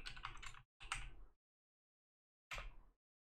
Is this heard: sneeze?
no